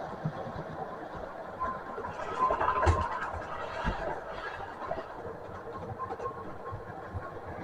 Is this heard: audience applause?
no